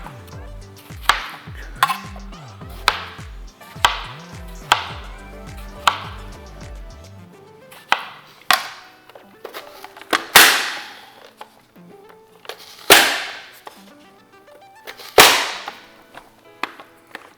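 Tomatoes being cut up in a hand-operated food chopper while preparing Mexican-style shrimp cocktail: a rhythmic series of sharp chopping strikes, repeated about once a second, with ringing tonal overtones early on and then louder, spaced whacks.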